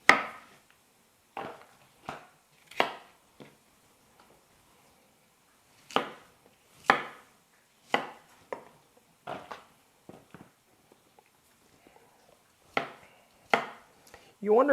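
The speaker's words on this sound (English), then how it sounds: "You wonder why we cut our vegetables pretty much in big pieces." A kitchen knife chops vegetables into big pieces on a cutting board for chow mein, with sharp isolated thuds that come in irregular clusters and are separated by short pauses.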